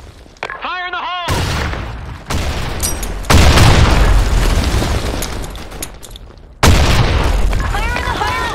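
Grenade blasts in the online shooter Blackshot, several loud booming bursts between shouted voice-over lines, with heavy broadband rumble and a synthetic warbling effect near the start and end.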